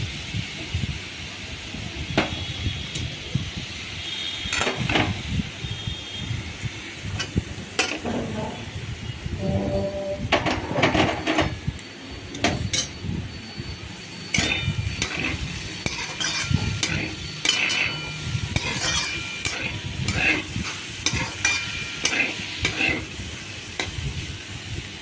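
Fried potato, pointed gourd and pumpkin stirred together in a pan, with a steady sizzle under repeated scraping strokes of a utensil against the metal, close and moderately loud throughout.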